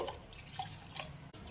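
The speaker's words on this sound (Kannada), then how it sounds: "ಈಗ ನೀರು ಹಾಕೊಳ್ಳೋಣ. 1 ಕಪ್ ಹಿಟ್ಟಿಗೆ 2 ಕಪ್ ನೀರು ಇಟ್ಕೋಬೇಕು ನಾವು." Water poured into flour in a home kitchen for disco papdi dough, heard as a faint, brief trickle with small drips and splashes and no talking.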